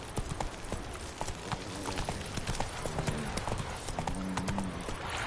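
Horse hooves clip-clop in a video game, a rapid, busy run of hoof strikes with a short whinny-like tone near the end, heard close and clear with no talking.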